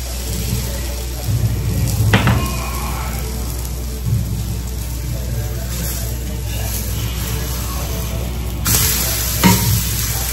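A sorghum-flour jowar dhirde pancake roasts on a hot pan, giving a steady low sizzle throughout with a few brief scraping and stirring clatters near the start and end.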